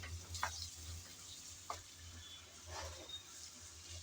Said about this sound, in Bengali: আমি সময় কম লাগার জন্য মাছের মাথা আর আলু একসাথে বেজে নিচ্ছি